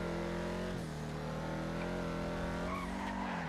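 Vapid Dominator GTX muscle car drifting through a turn in Grand Theft Auto: a steady, loud engine drone with a brief rising note near the end and faint tire squeal, no talking.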